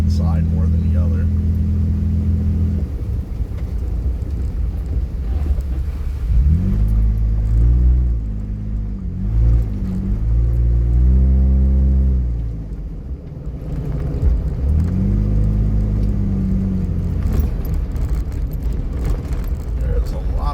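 A V6 engine with an unbuilt exhaust rumbles steadily while a vehicle drives at night, low and continuous, swelling and easing with throttle across the stretch, with a person talking over it.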